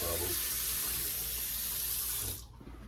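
Hot water runs steadily from a tap into a sink, a close, even gush that cuts off sharply shortly before the end.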